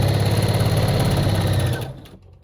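A sewing machine runs steadily, stitching elastic into fabric for sleep shorts and a cami strap, with a fast even whir. After a couple of seconds it slows and stops, leaving near silence.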